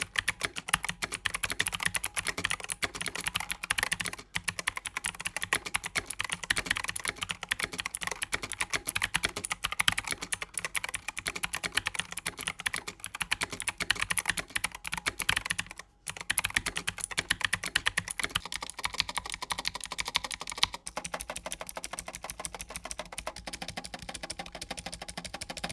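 A Razer BlackWidow keyboard with green clicky switches types continuously for about half a minute, close up, producing sharp rapid clicks and bottom-out clacks, with one brief pause midway and no voices.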